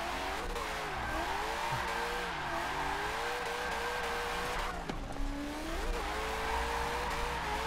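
Car drifting in Forza 7 with a steady engine drone and wavering tire squeal sliding up and down in pitch throughout, loud and continuous with no talking.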